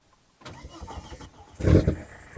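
A rebuilt turbocharged Volvo car engine starting up: a short cranking whir, then a louder catch and roar as the engine fires, heard close and alone without speech.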